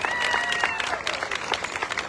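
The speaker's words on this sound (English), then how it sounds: "Give Joe a big round of applause." An audience at the Jackson Apple Festival Red Coat Club presentation applauds in a steady, moderately distant burst of many clapping hands that carries through the whole stretch.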